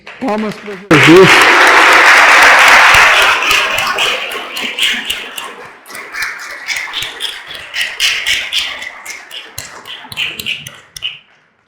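An audience at a lecture breaks into loud applause that peaks early, then thins into scattered rhythmic clapping that fades out.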